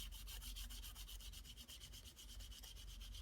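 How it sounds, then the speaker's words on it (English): Sandpaper rubbed gently over a wet photograph resting on a backing surface, a steady quiet rasp in fast, even back-and-forth strokes for a few seconds, close and alone with no voices. "I'm going to come in with sandpaper, nice and gently."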